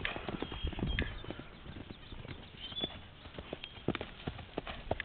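A horse running: quick, irregular hoofbeats pattering across the ground at moderate distance, fairly quiet and steady throughout with no talking.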